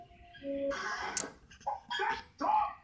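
A dog barks and yelps a few times in short bursts, fairly close, with some whimpering tones mixed in.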